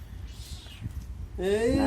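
A mother cat eating fish beside her kitten meows once near the end, a clear rising call after soft chewing and shuffling, with someone talking nearby.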